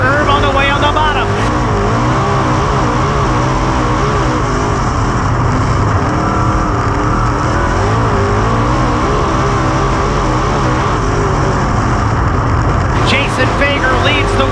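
Dirt-track race cars roaring around Highland Speedway in a loud, continuous engine drone that rises and falls as the cars pass close by, with an announcer talking over the racing.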